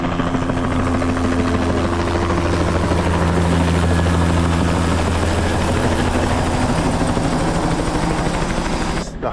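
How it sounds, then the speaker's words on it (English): A helicopter roars loudly and steadily nearby, its rotor thumping continuously throughout. "I like it when the helicopters land here."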